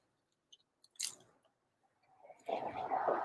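Crunchy thin-crust pizza being chewed at an Italian market, with a few small crisp bites followed by louder, steady close-up crunching and chewing.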